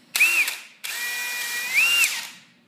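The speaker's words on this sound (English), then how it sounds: "So with your combi drill," A power drill whirs in a short burst, stops, then runs again for longer, its whine rising in pitch near the end before winding down.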